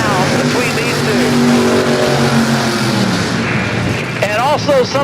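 A nitromethane-fuelled funny car at a drag strip roars loudly and continuously over crowd noise, with an announcer talking over it and a few brief chirps near the end.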